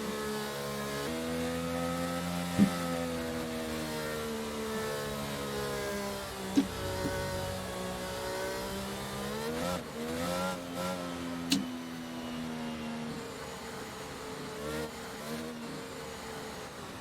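Race cars lap a circuit in a racing video game set at a British sprint weekend round: a steady layered engine drone whose pitch rises and falls as the cars shift and corner, with a few sharp clicks and no talking.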